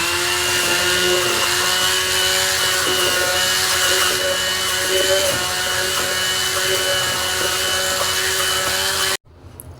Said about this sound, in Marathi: आता याच्यामध्ये मी पिठी साखर ओतून घेत आहे आणि तीसुद्धा फेटून घ्यायची आहे